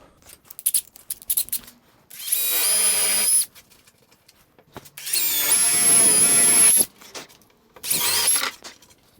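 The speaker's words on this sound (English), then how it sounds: "that's where I'm going to drill my hole" A power drill bores a hole into a wooden dining table in three close, loud bursts, each with a whining motor and grinding through the wood, separated by short quiet gaps with no talking.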